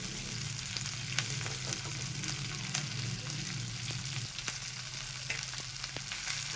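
Half-inch pieces of green chilli fry in a pan for a green chilli fry dish, giving a continuous close sizzle with occasional sharp crackles and clicks, steady in loudness and free of speech.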